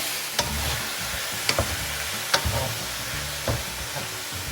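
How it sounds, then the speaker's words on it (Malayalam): Beef fries in a pan while being stirred, giving a steady close sizzle broken by several sharp scrapes and knocks of the spoon against the pan. "എന്നിട്ട് നമ്മൾ ഇതിനകത്തോട്ട് ഈ ബീഫ് അങ്ങ് ഇടുക."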